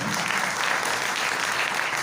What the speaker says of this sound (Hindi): ताली बजाएं, बहुत अच्छा जवाब दिया।